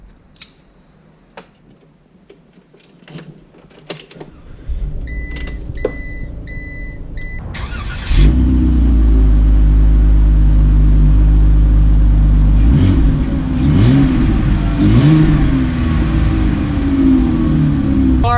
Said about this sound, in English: let's take the 2019 ProMaster out to see how it drives